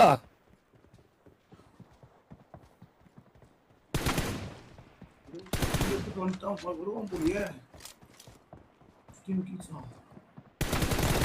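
Gunfire from a mobile shooter game, Free Fire or BGMI, comes in short rapid bursts, with quiet ticking between the volleys and someone talking over part of the action.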